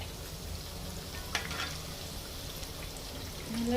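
Colocasia leaf fritters (alu vadi) frying in oil give a soft, steady bubbling sizzle, fairly faint and unbroken, with a single small tick partway through.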